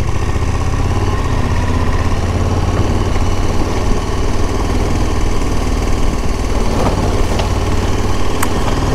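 A motorcycle rides a rough off-road stretch in off-road mode with ABS disabled, its engine droning loud and constant for nine seconds, with faint knocks from the terrain.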